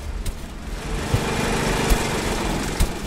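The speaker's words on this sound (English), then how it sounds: "These tractors are... They sound like lawnmowers." Tractors in the PC game Death Tractor buzz like lawnmowers: a steady, high-pitched small-engine drone runs unbroken throughout, with a few brief knocks and clicks on top.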